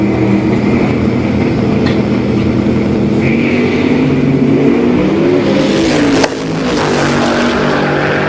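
A drag racing car makes a pass down the strip at a Sick Week event, its engine droning loud and steady with rising pitch before a sharp change as it pulls away.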